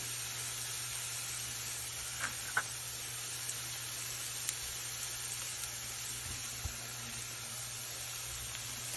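Onions and peppers for a Philly cheesesteak sizzling steadily in a hot pan, a continuous close hiss with a few faint pops and crackles, no talking.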